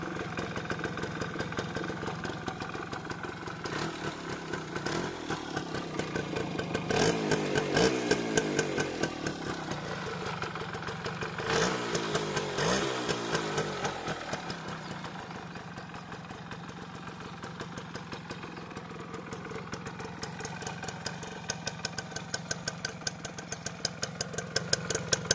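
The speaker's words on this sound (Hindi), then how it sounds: "इस बाइक का साउंड आपको कैसा लगा" A restored Suzuki motorcycle's single-cylinder engine runs steadily after a kick start, a close, continuous mechanical chatter that idles with a few swells in revs and no talk over it.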